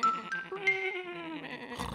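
A single sheep bleating in a cartoon scene, a wavering nasal cry lasting nearly two seconds, close and clear against a quiet background.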